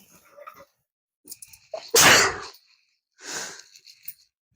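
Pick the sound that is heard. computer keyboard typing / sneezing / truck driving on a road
sneezing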